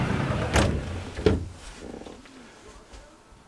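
Door to a retro game room opening, two sharp thuds of the latch and swing followed by a softer creak fading out, fairly close.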